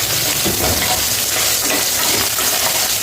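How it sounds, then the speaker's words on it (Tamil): Small sambar onions, shallots, sauté in oil for a bitter gourd kuzhambu, a loud continuous close-up frying sizzle with stirring scrapes throughout, no talking. "நல்ல சாம்பார் வெங்காயம் வதங்கி வரட்டோங்க, பார்க்கலாம்."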